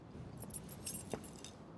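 Keys jangle faintly in the video game Life is Strange, a few light metallic clinks scattered across a quiet background.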